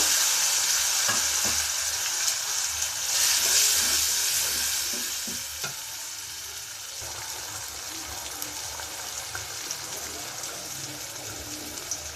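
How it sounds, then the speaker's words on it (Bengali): Spice paste (masala) sizzles and fries in a pan for beef bhuna, with steady close crackling, occasional stirring scrapes and a watery gush, the sizzle easing somewhat partway through. "এবার মশলাটাকে ভালো মতো কষিয়ে নিচ্ছি"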